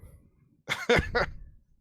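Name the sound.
cough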